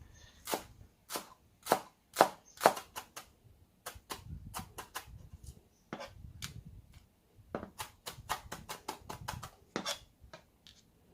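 A knife chopping green onions on a cutting board, sharp close taps in quick irregular bursts with brief pauses between runs, no talking.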